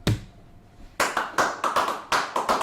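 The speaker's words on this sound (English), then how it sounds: "Like clapping whenever he does something." Someone claps in an office, a sharp single clap followed after a pause by a quick run of about nine crisp, close hand claps in an uneven rhythm.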